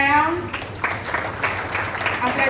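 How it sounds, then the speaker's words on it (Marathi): An audience at an old age home award ceremony claps for an honoured woman, moderately loud applause following a voice at the start and continuing unevenly for a couple of seconds. "जोरदार टाळ्या"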